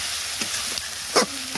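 Ground spices with salt, turmeric, chili and cumin-pepper paste fry in a pan, giving a steady sizzle broken by several short spatula scrapes and taps.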